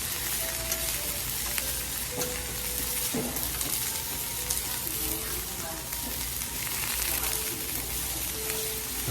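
Garlic and mushrooms sizzle steadily on a Korean BBQ grill, a constant dense crackle with faint background voices and occasional clinks.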